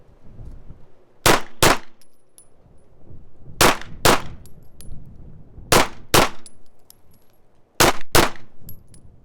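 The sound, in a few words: Ruger RXM pistol shots fired in doubles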